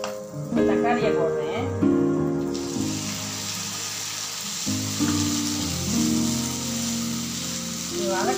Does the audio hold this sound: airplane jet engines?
no